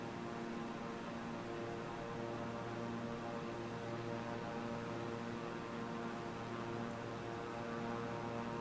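Flight simulator aircraft engine droning in flight, a quiet, unchanging hum with steady tonal layers and no talk.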